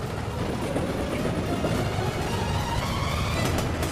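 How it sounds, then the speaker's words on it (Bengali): A train rolls along the rails, a continuous loud rumble with rhythmic clatter and wheel noise throughout, no voices present. "ট্রেন আসছে।"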